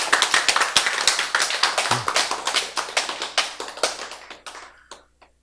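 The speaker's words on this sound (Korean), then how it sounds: "박수." A church congregation claps together during a Korean sermon: a steady run of sharp, fairly close hand claps that thins out and stops near the end, with no talking over it.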